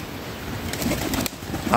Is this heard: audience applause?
no